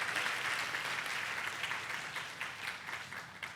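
A church congregation claps in a steady, even patter that softens slightly toward the end, heard from a distance without speech.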